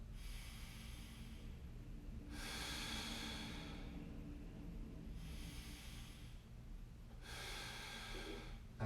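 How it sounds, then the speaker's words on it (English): Slow, deep breaths during a mobility stretching routine for the neck, feet and low back, four airy inhales and exhales in an even rhythm, close and fairly soft, with no talking. "So we're taking a nice deep breath in"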